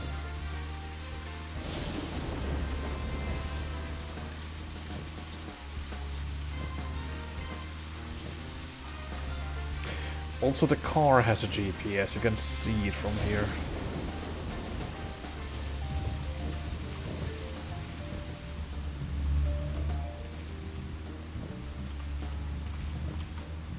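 Steady rain patters on surfaces in the video game Deadly Premonition, a continuous wash under a low rumbling car engine, with a louder burst of noise midway and a brief spoken remark.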